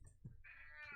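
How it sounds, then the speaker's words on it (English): A cat lets out one drawn-out, clear meow that rises and holds, close and fairly distinct against a quiet background. "I hear cats meowing"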